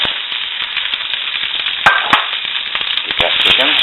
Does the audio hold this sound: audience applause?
no